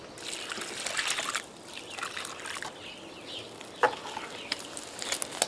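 Water poured onto freshly added soil in a potted avocado plant, soaking in with a soft trickle and fizzing as air bubbles rise, plus a few faint clicks.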